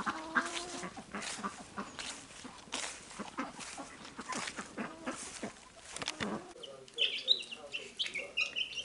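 Happy chicks peep continuously in a coop with fresh grass, many high chirps overlapping in a steady busy chorus, with a few sharper calls near the end.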